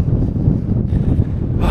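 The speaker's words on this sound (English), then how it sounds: "It's a bit windy now, we've got up on tops." Strong wind buffets the microphone on an exposed moorland hilltop at Kinder Scout in the Peak District, a loud, steady low roar with gusty swells throughout and no voices.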